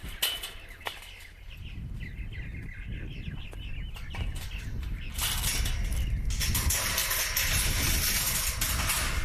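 Chicken clucking outdoors, short scattered clucks over a loud rattling and clanking of chains that grows busier midway through.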